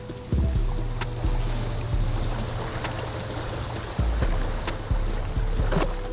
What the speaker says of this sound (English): Oh, surfing those waves.